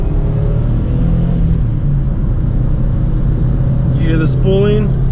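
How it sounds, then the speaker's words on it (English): A Subaru WRX accelerates hard with a steady low engine rumble inside the car, and a brief rising turbo whistle near the end. "You hear the spooling?"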